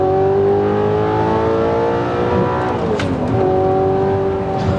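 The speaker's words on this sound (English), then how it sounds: "this car sounds like a supercar" A powerful Audi R8 engine drones steadily at high revs, its pitch climbing, dipping briefly, then rising again, loud and close.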